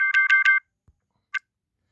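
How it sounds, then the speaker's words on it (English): Three quick electronic beeps in a row, then a pause and one more beep, like a short alarm tone. "Oh, there goes my alarm."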